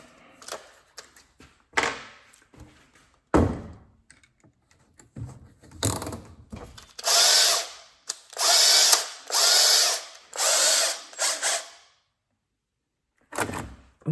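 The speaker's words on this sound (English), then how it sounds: "get the drill" A power drill runs in several bursts of a few seconds each while working on a Markbass bass combo amp, separated by clicks and handling noises, ending in a quiet pause.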